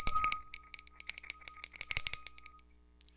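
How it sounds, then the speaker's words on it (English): A small bell rings repeatedly in quick, bright dings over a couple of seconds, then stops, leaving silence. "thank you for ringing the bell"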